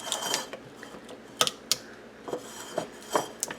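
Spatula scraping and tapping inside a casserole dish while it gets buttered, a handful of light clinking and scraping knocks spread irregularly over a quiet kitchen background.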